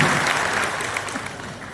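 Sustained audience applause at a Saharanpur smart city ceremony inaugurating 15 projects, a steady dense clatter of many hands lasting under two seconds and fading slightly toward the end.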